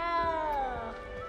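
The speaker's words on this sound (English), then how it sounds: "You don't need to be frightened, little cat." Cat meowing in the Hogwarts Legacy video game, a single drawn-out, falling meow heard close and clear over a faint background hum.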